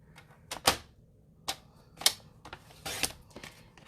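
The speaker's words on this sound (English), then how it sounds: "So I'm going to cut off 2 1/4 right here." A piece of card stock is cut with a few short, sharp snaps and slides at irregular intervals, close and fairly quiet.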